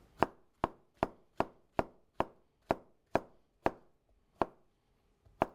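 A knife julienning zucchini and squash strikes a cutting board in an even rhythm, about a dozen crisp, close chops with a short pause near the end and no talking.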